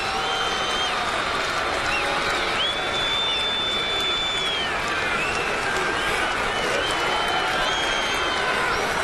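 Fired-up baseball crowd at a 2009 Blue Jays game against the Yankees, a dense, loud stadium roar of cheering and shouting that holds steady for the whole stretch, with occasional whistles rising above it.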